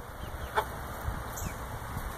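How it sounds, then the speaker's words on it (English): Silkie and barred rock chickens snacking on tomatoes cluck softly and sporadically near at hand, a few quiet calls over a low rumbling background. "There's my chickens."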